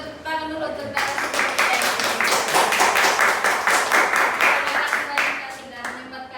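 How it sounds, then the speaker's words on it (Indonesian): An audience claps for the guest speakers at a podcast-style talk event, a dense burst of hands starting abruptly and sustained evenly for several seconds before tapering, with faint talk at the edges. "Mungkin kita kasih tepuk tangan dulu untuk narasumber"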